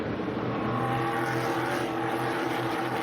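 Race cars lap Stafford Motor Speedway in an SRX series race, their engines making a continuous loud roar and drone with no clear individual pass-by.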